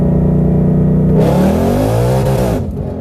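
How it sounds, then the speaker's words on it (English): A car engine revs hard to the rev limiter as the tires spin, its pitch climbing quickly and bouncing off the limiter before it drops away, loud and close. "I redlined like crazy in 2 seconds"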